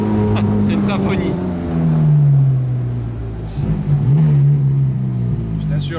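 Ferrari Daytona SP3 engine with a free-flowing exhaust, loud and close, its pitch swelling and dropping as it revs through gear changes while people talk over it.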